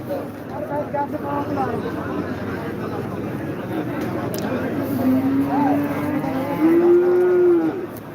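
Cattle low repeatedly at a winter livestock market in Taherpur, Rajshahi, among red Sahiwal and Sindhi cows, with long drawn-out moos rising near the end over a steady crowd hubbub and nearby talk.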